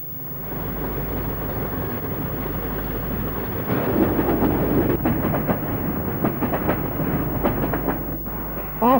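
A train on the Central Wales Railway in Wales during the 1970s rumbles steadily along, with rhythmic clicking of wheels over rail joints growing sharper midway and continuing to the end, heard alone without voices.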